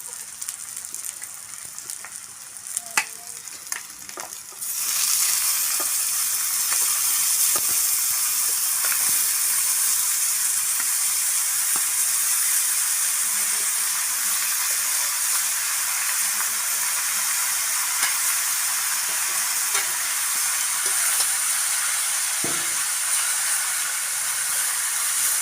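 Taro (kalo kochu) frying in a pan in village-style cooking: quiet scraping at first, then a sudden loud, dense hiss of hot oil that holds steady and close for the rest of the clip.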